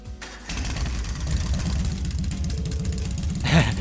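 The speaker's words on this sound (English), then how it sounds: "Alright, I'm going to start up the engine now." A motorbike engine in the Trails of Cold Steel video game cranks and catches, then settles into a loud, steady, rhythmic idle that revs briefly at the very end.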